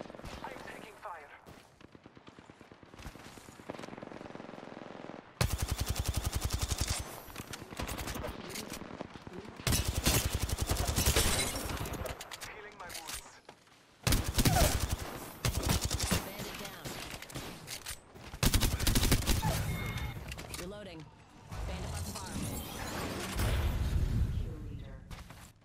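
Rapid bursts of gunfire from the battle royale video game Apex Legends, loud, repeated volleys of varying length separated by short lulls, with in-game voice lines in places.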